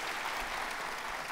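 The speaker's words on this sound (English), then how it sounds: "Let's give Shelby a big round of applause." An audience applauds for Shelby at the Do the Write Thing Challenge event, steady dense clapping for a brief moment.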